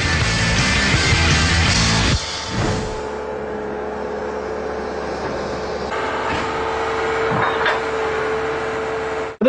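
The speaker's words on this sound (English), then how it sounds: "you're really pushing that machine up the side of that hill" Spider excavator, an HS41M, working its way up the side of a hill, giving a steady loud mechanical engine drone with a sustained tonal whine and a brief dip near the start, running continuously without talk.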